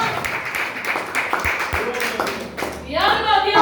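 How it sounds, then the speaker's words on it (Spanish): A church congregation claps and applauds together during a Spanish-language worship service, with steady clapping running under loud voices, then a voice rising near the end. "Dígale fuerte aplauso a Cristo."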